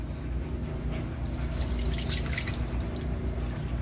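Water drips and trickles out through the small ventilation holes of a soaked hat, soft splashy patter bunching up in the middle over a constant low background hum.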